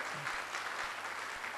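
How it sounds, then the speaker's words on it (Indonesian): Church congregation clapping during a charismatic worship service, a dense, steady wash of hands filling the room at a moderate distance for under two seconds. "Tepuk tangan bagi Allah kita."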